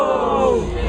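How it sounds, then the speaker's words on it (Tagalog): A crowd at a Filipino rap battle between Apoc and Sayad erupts in a loud, brief collective roar of shouts and cheers lasting about a second. "Ang ilang crowd reaction yan"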